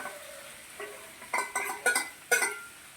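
A hot lime pickle mixture of lime, salt, chili powder and chopped green chili being stirred in a pan: a faint sizzle under a run of sharp scraping and clinking strokes that grow louder toward the end, close by.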